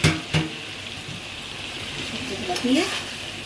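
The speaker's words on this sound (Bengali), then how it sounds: "এখন শুধু তেল আর তেল, শুধু তেল। এখন আমি আমার সবজিগুলো দিয়ে দিব।" Vegetables go into a pan of hot oil with a steady, close frying sizzle and a few soft stirring knocks near the start and end.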